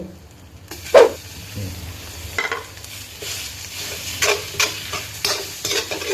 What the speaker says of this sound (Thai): กวนไปเลยครับ คั่วกวนไปเลยให้มันซุกครับ